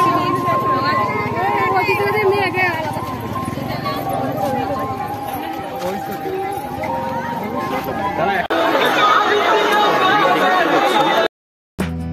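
A dense crowd of devotees at an old Shiva temple set among banyan trees fills the air with loud, continuous babble and chatter, with a nearby voice talking over it.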